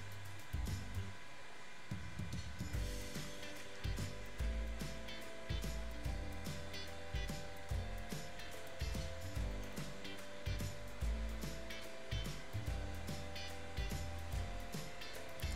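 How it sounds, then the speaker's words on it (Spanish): A sewing machine runs a steady, continuous stitching hum with a rhythmic mechanical pulse while sewing a girl's shorts, close and uninterrupted throughout. "Ahora pasamos costura alrededor."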